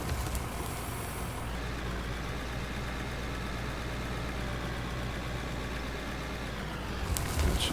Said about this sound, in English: let's get this loader pulled up out of the way then